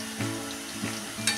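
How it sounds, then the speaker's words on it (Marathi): Spicy shankarpali dough pieces frying in hot oil: a steady bubbling sizzle with small stirring knocks, close and continuous. "त्या अशा एका चपातीच्या सगळ्या टाकून आपण तळून घेऊया।"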